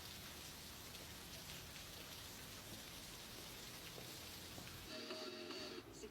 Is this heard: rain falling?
yes